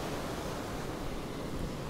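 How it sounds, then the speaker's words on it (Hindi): Strong monsoon waves crash on an empty Goa beach while heavy wind blows, making a constant loud roar of surf mixed with wind rush and no break or talking. "और विंड भी काफ़ी तेज़ आ रही है दोस्तों, क्योंकि लहरें इतनी ज़बरदस्त उठ रही है"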